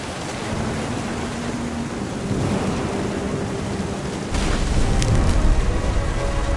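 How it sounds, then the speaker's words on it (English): Thunder rumbles heavily through steady rain in the What Remains of Edith Finch game, with a deeper, louder roll swelling near the end over a constant wash of rainfall. "The thunder sounded much too close and full of angry power"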